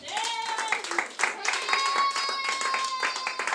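A church congregation claps together in praise of the Lord, a lively run of hand claps under singing and call-outs from the worshippers.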